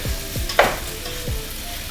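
Stew beef and onions fry in a pot with a soft steady sizzle, with one brief louder clatter of stirring near the middle and low thumps underneath.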